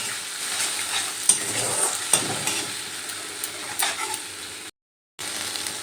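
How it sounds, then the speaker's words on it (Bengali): A paste of tomato, coriander, green chili and ginger sizzles in hot oil in a pan, a steady close crackle with a few sharp scraping knocks of stirring and a brief dropout near the end. "পেস্টটা দিয়ে ভালো করে একটু তেলের সাথে কষিয়ে নেব"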